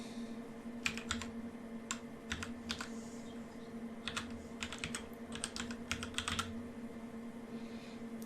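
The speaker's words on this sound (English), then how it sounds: "I'm going to give my cluster a name." Brisk typing on a computer keyboard, clusters of crisp close key clicks in short bursts over a steady low electrical hum.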